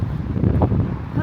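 Gusty outdoor breeze buffets the microphone on a day off in the UK, a low, blustery rumble filling the short moment, with no talk over it.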